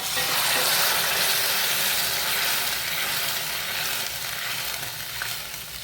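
Loud, continuous sizzling and bubbling hiss as water hits a hot pan of toasted semolina for uppittu, steady and close throughout with no talking.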